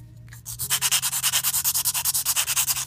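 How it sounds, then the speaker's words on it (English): Steady back-and-forth strokes of roughly 100-grit sandpaper cleaning up the edges of clear styrene plastic, quick and regular, close by and fairly soft, with no talking. "Do a quick little clean up sanding, get any rough edges off."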